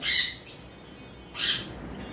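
A breeding pair of cockatiels gives two loud, harsh screeching calls, one at the start and another after a short pause, close by and with no talk.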